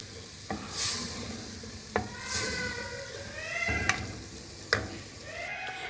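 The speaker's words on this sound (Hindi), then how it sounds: "इसके साथ भी कीमे को अच्छी तरह आपने मिक्स कर लेना है।" Minced meat and peeled tomatoes fry in a pan while a spoon stirs and scrapes it every second or so, a soft continuous sizzle underneath, with high meowing cries in the background.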